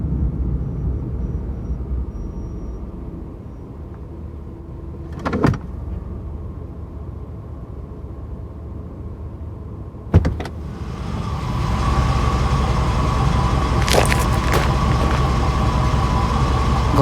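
A car in the video game Armed Blue Gunvolt rumbles steadily, with two sharp clunks partway through, then swells into a louder, fuller engine and road noise near the end, with no talking.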